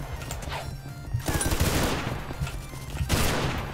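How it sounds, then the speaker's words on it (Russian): Machine gun fire in the Roblox game Ragdoll Universe, loud rapid bursts of gunfire in two dense volleys separated by a brief lull. "Все, я взял свой пулемет."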